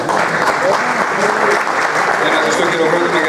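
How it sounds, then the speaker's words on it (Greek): Audience applause at a Greek award ceremony, a dense, steady clapping from a crowd that fills the whole stretch at loud, even volume without letting up. "Ένα ζεστό χειροκρότημα για τον Ιρακλή που δεν είναι κοντά μας."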